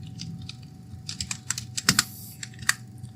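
Fast typing of C++ code on a computer keyboard in VS Code, close crisp key clicks in uneven bursts with a few sharper strokes, no talking.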